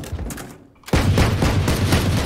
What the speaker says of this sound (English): It's a machine pistol.